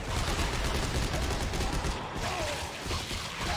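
Shotgun fire rings out in the video game Dead Space 3, dense and continuous blasts layered over loud game noise, heavy and near without any clear gaps.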